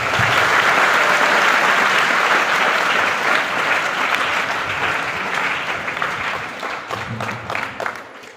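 Loud, sustained applause from an audience at a school event, dense clapping that fills the clip and slowly thins toward the end.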